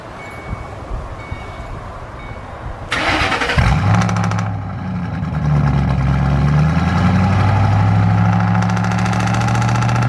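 A Ford Mustang GT with a newly installed loud aftermarket exhaust cold-starts: quiet ambience, a cranking burst, then the engine catches with a deep booming roar that settles into a loud, rumbling high idle, no voices.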